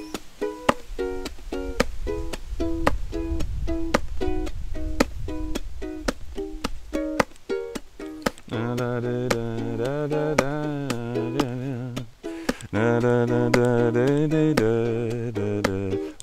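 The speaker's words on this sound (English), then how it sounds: "I'm slapping with my thumb onto the zone of my ukulele just above the strings and then playing the chords" Ukulele rhythm pattern alternating a percussive thumb slap on the body just above the strings with strummed chords, a steady repeating hit-chord-slap-chord groove, playing alone and close; the later part shifts to fuller sustained strummed chords.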